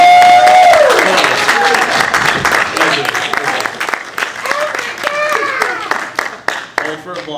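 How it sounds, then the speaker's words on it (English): Applause and cheering from a live audience at a podcast recording during a retro gaming expo in Portland, loud and close, tapering off while people talk over it. "Hold for applause."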